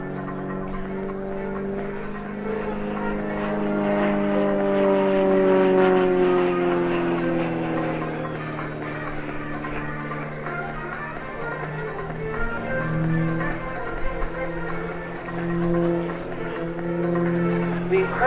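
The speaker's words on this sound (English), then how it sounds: "Incredible power to weight ratio of the extra EA330LX well on show there" An Extra EA330LX aerobatic aircraft flies a display at an airshow, its engine droning and shifting in pitch as it climbs and turns, under a commentator's voice.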